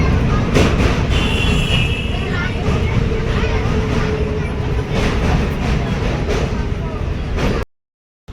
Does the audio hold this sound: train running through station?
yes